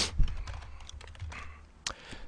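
Rapid clattering keystrokes on a cheap 19,000-won Homeplus membrane computer keyboard, close and busy, with a louder clack near the end.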